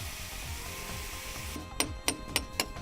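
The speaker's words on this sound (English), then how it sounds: "A chase cutter can easily cut grooves as required." A chase cutter cuts grooves into an AAC block, giving four sharp, evenly spaced rasping bursts over a steady background hum, each cut loud and close.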